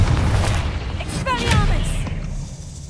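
Confringo blasting spells explode in the Hogwarts Legacy video game, each a booming thud with crackling bursts. A voice shouts spell names over the blasts.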